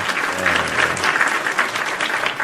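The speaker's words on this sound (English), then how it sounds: "a round of applause for these three" A studio audience claps in a dense, steady round of applause at the close of a live trading broadcast, loud and sustained throughout without speech over it.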